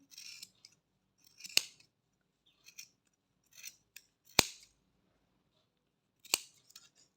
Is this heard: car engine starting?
no